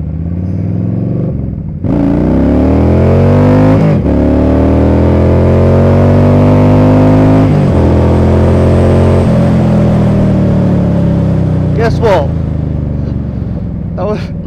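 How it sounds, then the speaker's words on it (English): A belt-drive motorcycle accelerates hard after a dropped clutch, its engine note rising loud and close through several gear changes with short pauses between, with a voice talking over it. "Literally dropped the clutch and it just accelerated."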